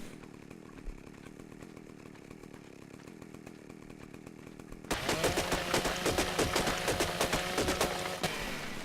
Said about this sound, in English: Then you get off and you fire up your chainsaw.